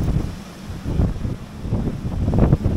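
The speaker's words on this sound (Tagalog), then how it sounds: "Ang hangin ang lakas." Strong coastal wind at Barangay Caoayan in Sual, Pangasinan, roaring and buffeting a nearby microphone in low rumbling gusts that swell and fade continuously, with no voices.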